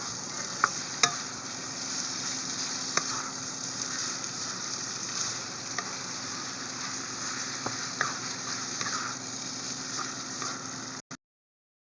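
Pork sisig sizzles steadily in a hot pan with Maggi seasoning added, while a spatula stirs through it with occasional scraping clicks, the frying constant and close until it cuts off abruptly.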